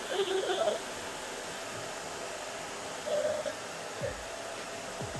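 Hair dryer with a diffuser attachment drying curly, wavy hair, a steady broadband whoosh running throughout at moderate level with a few brief louder bumps.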